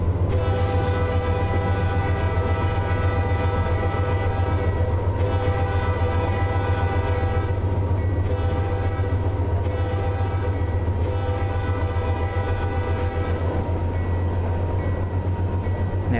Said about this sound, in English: that's the sound of the horn on this particular AC 4400 Brayden.